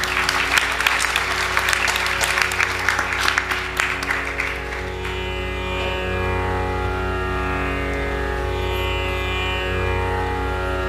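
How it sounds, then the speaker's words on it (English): An audience at a Bharatanatyam arangetram dance debut applauds the dancer's entry, brisk clapping over the first half that gives way to sustained instrumental music as the clapping fades out. "Please give her a round of applause."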